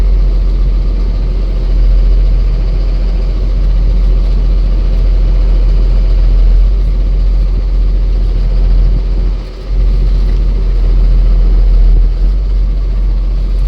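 A Cummins diesel engine that sat unused for years idles steadily with a loud, continuous low rumble close by, with a brief dip near the end and no talking.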